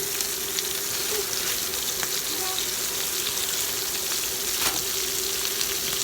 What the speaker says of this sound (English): Sorry, it's the kettle